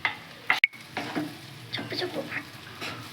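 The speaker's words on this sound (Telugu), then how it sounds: "ఇప్పుడు మళ్ళీ కలుపుతూ" Spatula stirring white rice as it fries in a pan for quick bachelor-style fried rice, giving close scraping and soft sizzling strokes in uneven bursts, with a couple of sharper clinks near the start.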